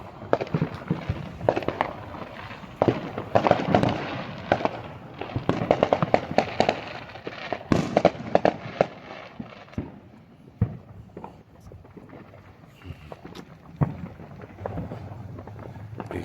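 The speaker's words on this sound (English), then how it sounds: "I was trying to get a picture of the fireworks going off over the TP right there." Fireworks burst at night over the Wigwam Motel on Route 66: a dense run of sharp cracks and booms for about ten seconds, then scattered, fainter pops with quiet gaps between them.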